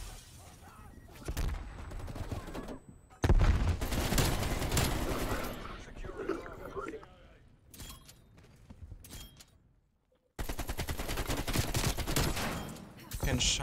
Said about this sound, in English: Getting shot at by two people.